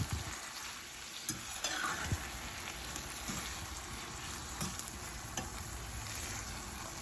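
Saltfish sizzling in a frying pan as seasoning is stirred through it for Jamaican fried breadfruit with saltfish, a steady close crackle broken by occasional utensil scrapes, with no voices.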